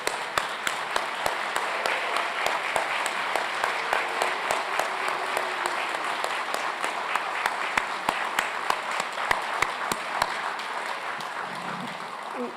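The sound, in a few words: applause for graduates at convocation ceremony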